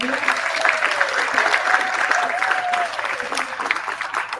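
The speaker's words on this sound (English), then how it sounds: "can we please have a round of applause for our kazi" Audience applause at a marae gathering, steady clapping from a crowd filling the whole stretch, with cheering and a voice or two over it.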